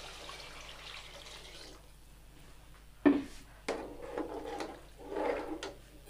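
Water is poured into a cooking pot for vegetable pulao, with a soft rushing stream followed by a few sharp knocks and splashes as it fills, close by and moderately quiet.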